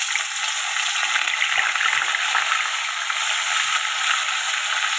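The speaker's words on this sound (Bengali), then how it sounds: "গরম হয়ে গেছে, আমি মাছগুলো ভেজে নেবো।" Pieces of bhola fish frying in hot oil produce a loud, continuous, even sizzle close by, with no voices over it.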